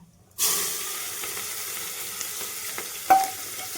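Onion dropped into hot oil tempered with asafoetida, curry leaves, mustard and cumin bursts into a sudden loud sizzle that holds steady, with a few small pops and a brief clink near the end.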